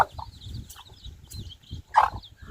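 Chickens clucking in short, close bursts, with several throaty calls over a low rumbling background and one louder squawk near the end.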